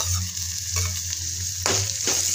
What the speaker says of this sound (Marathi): टमाटर छान शिजेपर्यंत आपल्याला असंच परतून घ्यायचं आहे।